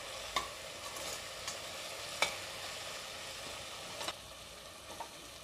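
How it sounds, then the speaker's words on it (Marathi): Spices with garam masala sautéing for egg biryani: a soft, steady sizzle in a pan, with a few sharp scrapes of stirring, faint and close. "आता आपण हे मसाले चांगले 1 मिनिट परतून घेऊया।"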